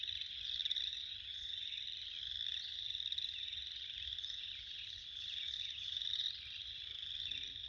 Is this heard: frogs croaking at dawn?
yes